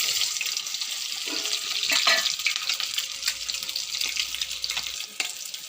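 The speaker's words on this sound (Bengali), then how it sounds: "নুন হলুদ মাখিয়ে ডিমটা একটু লাল লাল করে ভাজছি" Eggs coated in salt and turmeric frying in a pan, a soft crackling sizzle with bursts of spattering, close and fairly quiet.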